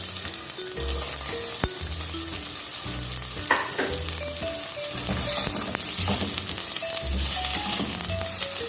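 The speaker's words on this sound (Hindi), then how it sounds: "और फिर इसमें डालेंगे ऑयल। इसमें डालेंगे प्याज," Chopped onions frying in hot oil in a pan for a pizza topping, a steady broadband sizzle with occasional stirring clatter, fairly loud and close, alongside tonal background music.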